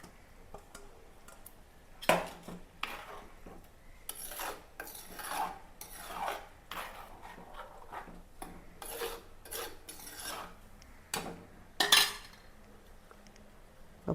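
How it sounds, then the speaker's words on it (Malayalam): River fish pieces going into a pot of boiling Kerala fish curry, with repeated rasping scrapes of a utensil against metal. The scrapes come in irregular bursts, close and moderately loud, with a few sharper knocks and no talking. "ഈ സമയത്ത് നമുക്ക് മീൻ അങ്ങോട്ട് കൊടുക്കാം."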